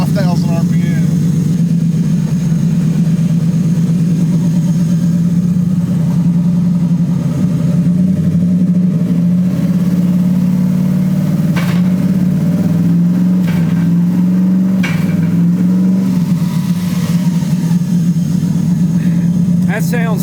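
A twin-turbo 6.2 Raptor-swapped Ford Crown Victoria engine roars loud and steady, held high at about 4,000 to 5,000 rpm through gear changes, with brief dips; people talk over the engine.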